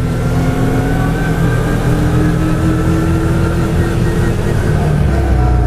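CF Moto UForce 1000 side-by-side ATV driving off-road, its engine a loud, steady droning hum with sustained harmonic tones and rumble throughout, close and continuous with no pauses.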